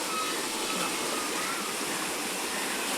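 Steady rushing river water flows over stones without pause, a broad hiss, with no voices.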